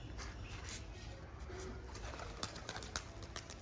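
White pigeons cooing softly after being released from a loft, a low steady murmur under outdoor background noise with a few brief sharper sounds toward the end.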